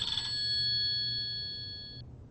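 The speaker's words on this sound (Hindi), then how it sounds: "कब से आपका फोन बज रहा है?" A phone rings with a steady electronic tone, sustained for about two seconds then stopping, heard alone against quiet room noise.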